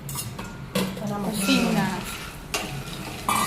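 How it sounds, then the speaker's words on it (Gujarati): A spoon scrapes and stirs peanuts roasting in ghee in a pan, with a soft sizzle, and a voice talks briefly over the cooking. "સિંગદાણા શેકી દેવાના."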